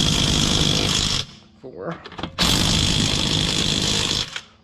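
Ryobi battery-powered impact drill loosening car wheel lug nuts, with two long, loud buzzing bursts of about a second and two seconds, separated by a short gap where a person counts aloud.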